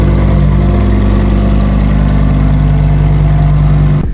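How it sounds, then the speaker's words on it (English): A loud Lamborghini Huracan engine runs steadily with a deep, throbbing idle and rich low harmonics, close up, cutting off abruptly at the end. "I did not expect this car to be loud"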